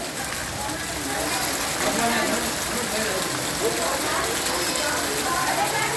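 Torrential afternoon downpour in Wankaner, Gujarat, with water pooling in a square; a dense, roaring wash of rain on surfaces that swells slightly after the first second and stays loud and continuous.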